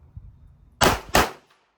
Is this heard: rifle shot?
yes